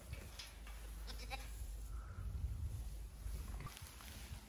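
Texel sheep on a farm bleat a few times, short wavering calls in the middle distance, over steady outdoor wind noise.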